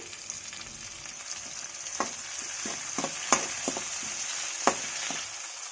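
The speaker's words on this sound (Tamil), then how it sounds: "தக்காளி ஓரளவுக்கு வதங்கினதுமே கத்திரிக்காயை சேர்த்துருங்க" Tomato sautéing in hot oil in a pan for a mango and brinjal spicy curry, a steady close sizzle with several sharp crackles and pops scattered through it, alone with no voices.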